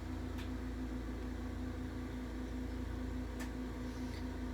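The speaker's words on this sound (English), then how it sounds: "you're aiming your flame just at that lower 1/3 of your pot" Glassblowing torch flame heating a pot of borosilicate glass coils, a constant steady roaring hiss with a low hum, even and unbroken, with no voices.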